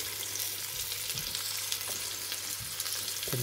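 Fennel for a fennel confit browning in a hot pan: a steady, close frying sizzle runs throughout, with a few soft scrapes and pops, and no one talking.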